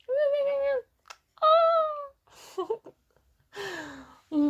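A cat meows several times at close range, its drawn-out harmonic cries separated by short pauses, with soft voices and small handling noises in between.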